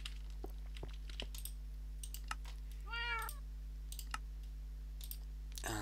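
A single cat gives one clear, rising-and-falling meow, moderately close, amid scattered mouse and keyboard clicks over a steady low hum.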